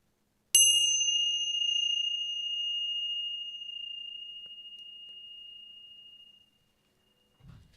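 A single clear bell ding rings out and slowly fades over several seconds in an otherwise quiet room.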